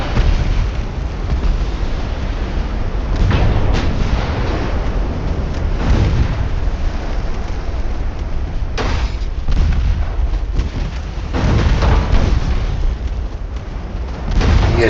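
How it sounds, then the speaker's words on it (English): A torpedo detonates among warships in Ultimate Admiral Dreadnoughts during a Spanish-American War naval battle, heard as loud, continuous booming rumbles with repeated heavy blasts. "Oh, torpedo detonation destroyed torpedo."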